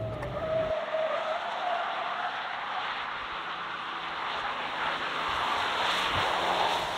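A V6 Ford Ranger pickup in two-wheel drive spins its wheels with a sustained loud engine roar and tire noise, continuous throughout with no talk.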